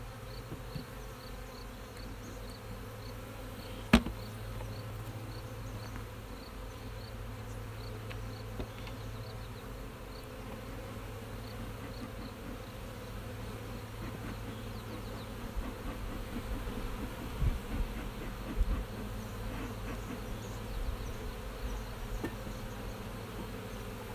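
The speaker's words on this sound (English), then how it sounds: "Not happy bees." A dense, continuous buzzing of many agitated bees swarming close by after being smoked, a restless droning hum that keeps going without a break.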